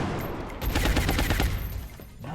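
Gunfire in the video game XCOM: Enemy Within, a rapid burst of loud repeated shots in quick succession, then a short decaying tail, with no talking.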